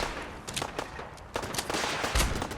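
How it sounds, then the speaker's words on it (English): Rocket launcher fire and explosions during a settlement battle in the video game Fallout 4, a series of sharp bursts and booms over a dense, continuous din of combat, with one heavy low-pitched blast near the end. "Stop letting them have rocket launchers."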